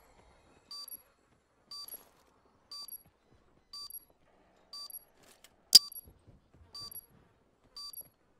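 A planted bomb in a video game beeping at a steady rhythm, one bright beep about every second on near silence, with a single sharp click partway through.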